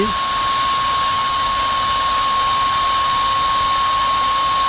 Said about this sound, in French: on se retrouve dès que l'aspirateur va s'éteindre